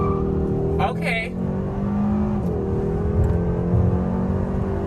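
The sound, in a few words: car accelerating in sport mode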